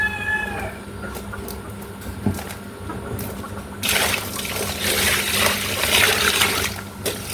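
Orchid plants, moth orchids, being watered with collected water, a steady splashing wash that starts midway and carries on to the end, following a quieter stretch with a faint cat meow near the start.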